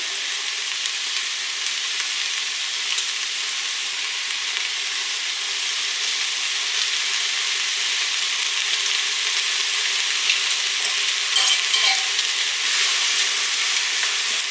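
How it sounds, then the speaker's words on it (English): Garlic and spices toast in a hot pan with a steady, dense sizzle that runs unbroken throughout, close and fairly loud with no voices. "we are going to add our spices and garlic to toast them"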